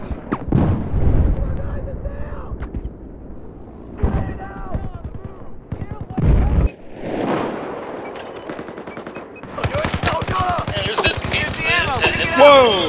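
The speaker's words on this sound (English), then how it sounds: "Fucking rocket just passed right next to my head." Loud Battlefield 4 naval combat with dense gunfire and heavy explosions, and a rocket whooshing close past the player amid the bursts of fire.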